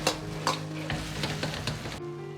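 Eggplant cubes are stir-fried quickly in a glossy sweet and sour sauce with hot frying oil, a dense close sizzle under repeated scraping strokes of a spatula, cutting off suddenly near the end.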